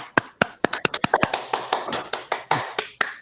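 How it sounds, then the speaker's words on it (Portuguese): A small group claps hands over a video call at the close of a thesis defense, irregular sharp claps overlapping in a loose patter, fairly near and steady for a few seconds with no talk. "Quer que bate palminha? Vamos bater palminha."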